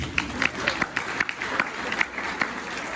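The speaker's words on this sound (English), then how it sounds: "Give them a round of applause." Scattered hand claps from a small crowd at a town's 100th anniversary celebration, a few sharp claps standing out over a steady patter of applause.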